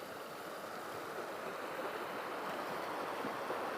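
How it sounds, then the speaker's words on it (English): A small waterfall in quiet countryside, giving a continuous, even rush of flowing water with no breaks. "I see like a little waterfall over there."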